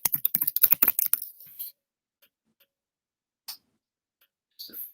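Rapid keystrokes on a computer keyboard clatter close by in a quick burst, then trail off into silence broken by a few isolated taps.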